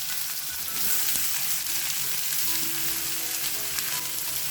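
Long-cut onions hit hot oil with spluttering mustard seeds, cumin and hing, giving a steady, moderately loud sizzle with faint crackles throughout, no voices over it.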